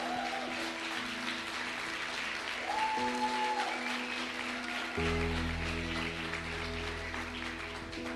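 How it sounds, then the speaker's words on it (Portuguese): A church congregation claps for a pastor, broad applause under sustained organ or keyboard chords that shift partway through, with a brief sung or held tone. "vamos dar uma salva de palmas para a vida do pastor Ezequiel"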